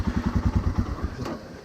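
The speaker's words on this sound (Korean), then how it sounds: "시동을 걸어보면 좀 전에 보셨던 것처럼 뭐 이키그 공랭 엔진, 공랭 단기통 엔진 특유의 그런 좀" Air-cooled single-cylinder engine of a Royal Enfield Himalayan motorcycle cranking over with a rapid chugging pulse that catches briefly, then fades into a rough, uneven idle, close by.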